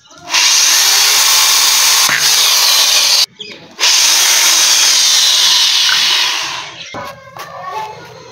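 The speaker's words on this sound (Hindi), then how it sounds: "अब हम ढक्कन में कर लेंगे सुराख। जी हम करेंगे ड्रिल के साथ सुराख।" A power drill bores a hole through a can lid, its loud, steady whine running for several seconds, stopping briefly, then starting again and winding down into short bursts at the end.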